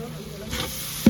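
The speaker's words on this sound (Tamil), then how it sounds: "இப்போ நல்லா எண்ணெய் பிரிஞ்சு வந்ததுக்கப்புறம் பொடியாக நறுக்கின தக்காளியும் சேர்த்துக்கலாங்க." Chopped tomatoes dropped into hot oil for a village-style chicken dum biryani give a steady close sizzle of frying, with a brief louder crackle right at the end.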